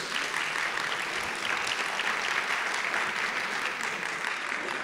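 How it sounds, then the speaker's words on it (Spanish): Sustained, dense applause from an audience welcoming Dr. Leopoldo José Maizo Alemán, an orthopedic surgeon, at a medical presentation; steady and even throughout with no voices on top. "Por favor, un fuerte aplauso."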